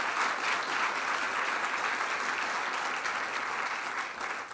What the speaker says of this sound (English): which deserves its own round of applause